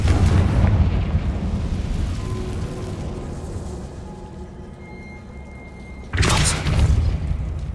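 A Confringo blasting spell explodes in Hogwarts Legacy: a loud broad boom that decays into a rumbling tail, followed by a second sharp burst near the end, with no talk.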